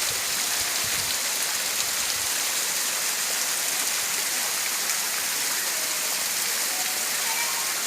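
A tall waterfall in Pachmarhi, India, pours with a steady, broad rushing roar that stays constant and fills the whole scene without pause or voices.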